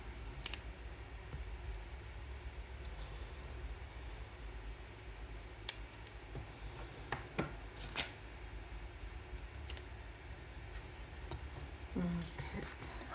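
Scissors snip through green paper in a quiet room, a few sharp scattered cuts over a low steady background hum.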